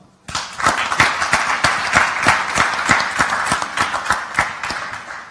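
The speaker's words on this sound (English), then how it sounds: "let's give them a round of applause" A startup conference audience gives a round of applause, a dense burst of many hands clapping close and steady for several seconds before tapering slightly.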